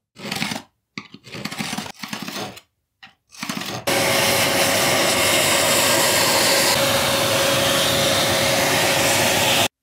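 A vacuum cleaner cleans out tile joints. Brief bursts of scraping and suction come first, then the vacuum runs at a loud, steady roar with a sustained whine.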